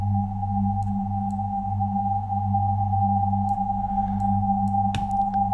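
Deep synth tones from the KlirrFactory Mr.Q instrument in VCV Rack, a sustained low droning hum with a steady higher overtone line and faint clicks, alone without talk.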